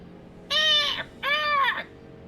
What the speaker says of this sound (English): ravens, crows going